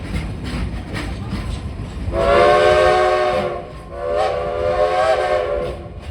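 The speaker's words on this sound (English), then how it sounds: "give us a couple more toots on that whistle" The whistle of Frisco Silver Dollar Line steam locomotive 14 at Silver Dollar City blows two long toots, the second slightly shorter, over a low rumbling engine background.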